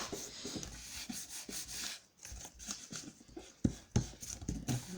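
Paper is rubbed by hand onto a mono-printing plate, giving close, soft, repeated scratchy strokes in an uneven rhythm with brief pauses between them.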